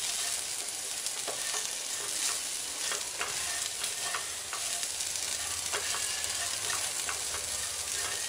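Chopped gherkins coated in chili powder fry in a pan with green chilies, giving a constant close sizzle, with frequent light scraping taps from stirring and no talking.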